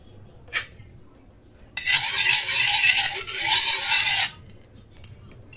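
Ginger sautés in cooking oil for chicken tinola, with a loud, close burst of hissing sizzle and scraping lasting about two and a half seconds, framed by a few short taps before and after.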